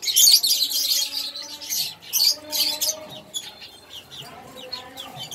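A bantam chicken clucks in low, repeated notes close by, mixed with sharp high chirps from lovebirds in the same pen.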